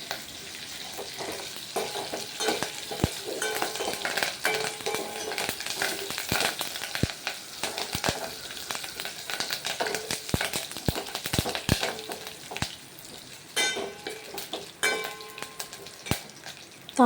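Tempering for tomato rasam sizzles steadily in a hot pan, broken by sharp clicks and taps of a spoon stirring against the metal throughout.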